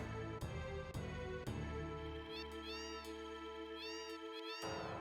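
A cat meowing during Final Fantasy VII gameplay, several clear, drawn-out meows in a row, quiet and in the foreground, with a low steady hum under the first half.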